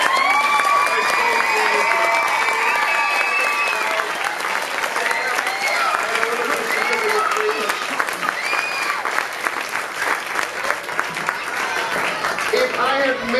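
An audience at an event applauds Sam and Kitty with sustained, dense clapping, with scattered cheers and a few shouts mixed in throughout.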